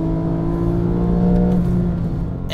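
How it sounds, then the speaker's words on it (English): Porsche 911 997 GT3 engine revving on a track, heard from inside the car as a loud, steady high-pitched wail that eases off toward the end. "Engine does sound glorious."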